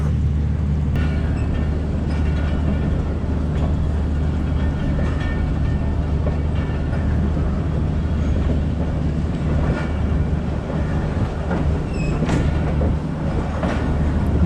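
Pakistan Express pulls out of Gojra station, a continuous loud rumble of rolling wagons with faint clicking and occasional thin squeals over the steady roar, heard from on board with no talk.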